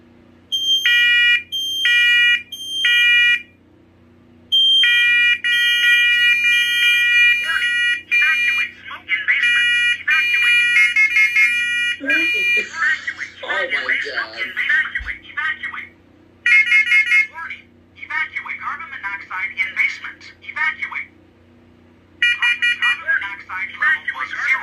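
Smoke alarms from a collection are tested one after another, each giving loud, piercing, high beeps in repeating bursts with short gaps. A second, warbling alarm tone takes over partway through, and a voice announces a warning between the beeps.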